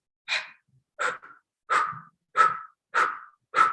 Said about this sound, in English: the first breath that we're going to do is a breath that's called the blow breath